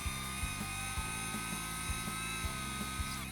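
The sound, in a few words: electric drill drilling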